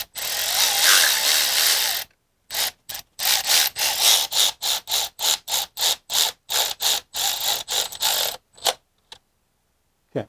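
Power tool running bolts onto a BMW E90 engine during a fuel injector job: a long opening burst, then a rapid run of short, loud, ratcheting whirs, each starting and stopping in quick succession, close up and with no talking.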